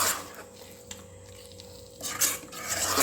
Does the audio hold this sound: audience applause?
no